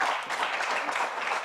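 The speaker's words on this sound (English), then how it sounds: "So another round of applause for Shiko as well." A dense round of applause fills an audience hall at an education technology summit in Kenya, steady and moderately loud throughout the short stretch with no voices.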